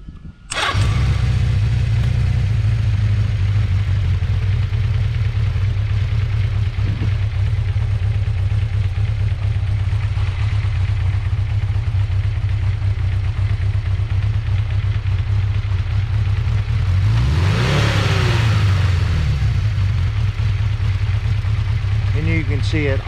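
A 1979 Honda CB650 motorcycle engine cranks and fires, then settles into a loud, steady, even idle that runs close by for the rest of the clip, with a brief rev partway through.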